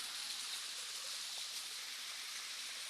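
A stream flows steadily nearby, a soft even hiss of rushing water with no breaks, quiet and unaccompanied by voices.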